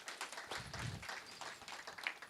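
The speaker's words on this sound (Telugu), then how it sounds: "నాకు చప్పట్లు వద్దు" An audience applauds at a spiritual meditation gathering, a soft, distant patter of many hands clapping for a couple of seconds.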